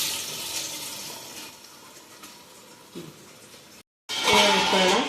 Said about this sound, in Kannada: ಇವಾಗ ಸ್ವಲ್ಪ ನೀರು ಹಾಕ್ಕೊಂಡು ಇದರಲ್ಲಿ ಸ್ಟೀಮ್ ಬರಿಸಿದ್ರೆ ಆಯ್ತದು.